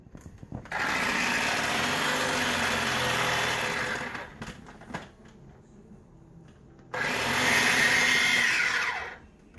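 A kitchen chopper whirs loudly as it chops and purees roasted red pepper, running in two long steady bursts with a quieter pause between them.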